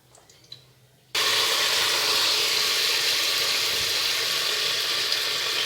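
After a second of quiet clinks, mint, coriander leaves and spices drop into hot oil for a beef biryani, bursting into a loud, sustained sizzle that stays steady to the end with no voices.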